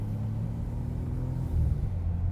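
A BMW M3 Touring with a manual gearbox pulls away on Takao Parkway in Kyoto, its engine giving a steady, deep rumble that swells slightly louder near the end, with no talking.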